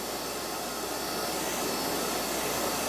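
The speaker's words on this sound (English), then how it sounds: "Once again, hair dryer in hand, low setting." A hair dryer runs on its low setting during a craft project drying gesso on a DIY door handle, a loud, steady close-up whoosh of blowing air that holds constant without a break.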